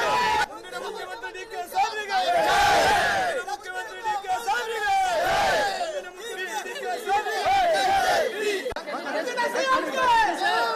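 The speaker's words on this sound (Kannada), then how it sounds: "ಮುಂದಿನ ಮುಖ್ಯಮಂತ್ರಿ ಡಿಕೆ ಶಿವಕುಮಾರ್ಗೆ ಜೈ ಅಂತ ಡಿಕೆ ಶಿವಕುಮಾರ್ ಬೆಂಬಲಿಗರು ಜೈಕಾರ ಹಾಕಿದ್ರೆ" Supporters of D.K. Shivakumar in a crowd chant and shout slogans in repeated rising waves. The voices overlap in a loud, close hubbub with short lulls between bursts.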